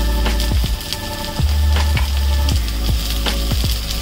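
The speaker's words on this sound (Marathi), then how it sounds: "आणि पत्ता कोबी हे एक चांगलं 1 मिनिट भर फुल गॅसवरच परतून घेऊया" Onion, French beans, carrot and cabbage stir-frying over full gas for veg fried rice, a steady loud sizzle with a low roar beneath and sharp periodic scrapes and knocks of the spatula against the pan.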